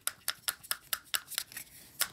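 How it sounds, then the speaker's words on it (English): Small plastic Rio 2 Burger King kids' meal finger clicker toy snapping repeatedly, about ten sharp close clicks at a quick, slightly uneven pace with no talking. "it makes clicking, chomping noises"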